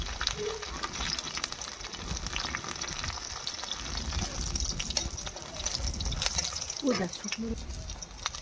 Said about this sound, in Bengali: এবার সর্ষের তেল দিয়ে দিলাম, এবার কটা জিরে দিয়ে দিলাম।